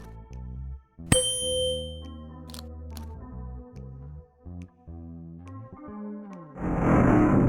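A struck metal instrument rings out once with a bright ding and long shimmering decay in a puzzle adventure game, set over a layered musical score, followed by a louder noisy swell at the end.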